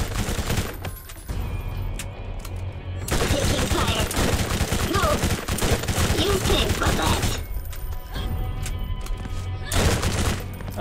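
Sustained gunfire and bursts of automatic weapon fire in the video game Borderlands, loud and dense, with brief lulls, filling most of the stretch amid game effects.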